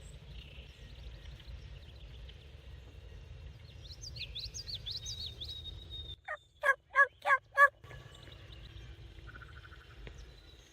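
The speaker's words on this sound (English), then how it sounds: "Did you hear the turkey gobble?" A turkey on a farm gobbles in a burst of four loud, rapid rattling calls, with faint birdsong and a low background hum before and after in a quiet outdoor morning setting.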